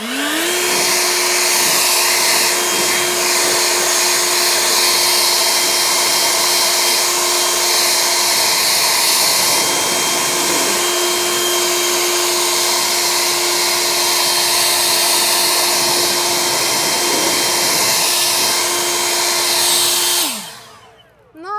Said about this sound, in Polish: Dmuchawa pochodzi z firmy Ego Power Plus.